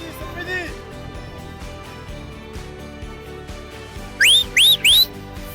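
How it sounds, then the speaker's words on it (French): A referee's whistle at an amateur French football match sounds three sharp, loud rising blasts in quick succession near the end, after a stretch of crowd noise and shouting voices. "le coup de sifflet final"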